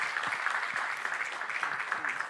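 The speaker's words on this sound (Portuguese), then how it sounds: "Gostaria que você recebesse ele com uma salva de palmas" Conference audience applauds to welcome Pastor Marcos Madaleno at Inspire Conference Portugal, a steady, fairly quiet wash of clapping filling the short moment with no voices standing out.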